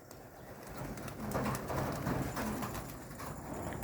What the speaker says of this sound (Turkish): Kumru.